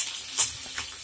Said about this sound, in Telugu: మనం ప్యాన్ పెట్టుకొని ఆయిల్ హీట్ అయినాక పోపు దింపులు వేసుకుందాం. వెల్లుల్లి, కరివేపాకు వేసుకుందాం.